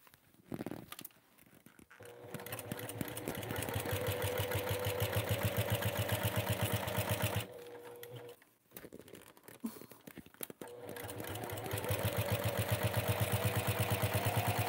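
A sewing machine with a walking foot stitches a test bag in long steady runs of rapid clattering, broken by a brief pause near the middle before the stitching resumes.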